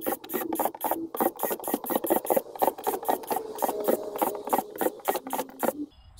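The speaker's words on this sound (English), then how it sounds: "Drill a bunch of small holes in the bottom." A drill bores a quick series of small holes through the bottom of a plastic storage bin, giving rapid repeated bursts of whirring and plastic chatter, close and loud, with no talking.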